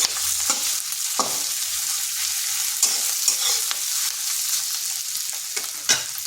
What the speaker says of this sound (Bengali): আদা রসুনটা হালকা একটু ভেজে নিচ্ছি যাতে আদার গন্ধটা চলে যায়